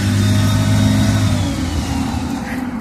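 A bus engine rumbling close by as it drives past, loud and steady at first, then easing off as it pulls away.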